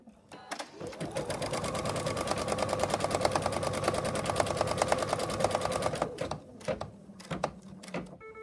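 An embroidery machine stitches an in-the-hoop wallet, running as a rapid, steady mechanical chatter for about five seconds before stopping, with a few scattered clicks afterward.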